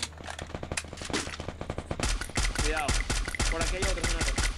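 Rapid bursts of gunfire in a shooter video game crack in quick succession, loud and close, with people speaking over the shooting.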